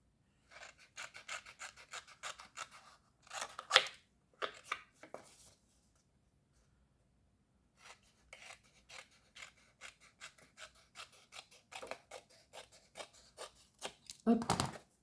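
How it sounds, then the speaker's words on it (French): Scissors cut a white paper strip in a collage page with close, crisp snipping and rustling in several bursts, separated by quiet pauses, with a louder snip near the end. "je vais quand même couper la bande blanche"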